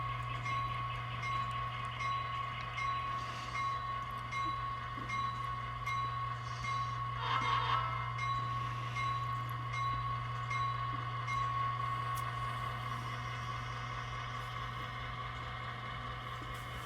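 Railroad boxcars are switched and moved, a continuous droning hum and rumble with a brief burst of clatter partway through, steady throughout and free of speech.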